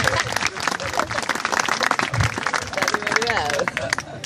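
Audience applause at a speech event, scattered clapping from a crowd mixed with loud talk and chatter throughout, fairly close and busy.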